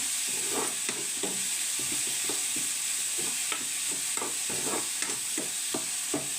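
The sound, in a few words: vegetables frying in oil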